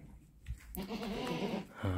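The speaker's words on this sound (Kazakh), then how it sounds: "осы Zannin ешкілердің лақтары сатылады." Saanen goat kids raised for milk lines bleating up close on a farm, one drawn-out bleat followed by the start of another, alone without talk.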